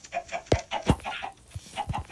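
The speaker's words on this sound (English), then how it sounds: "this is a chicken coop." Chickens cluck inside a coop in a series of short, close calls, several sharp bursts scattered across a brief stretch over a low background murmur.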